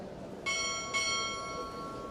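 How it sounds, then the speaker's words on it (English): A pair of crisp bell strikes sounds at a Navy pinning ceremony for chief petty officers, two ringing metallic tones about half a second apart, sustaining and slowly decaying in a quiet space. "Time order to strike 2 bells."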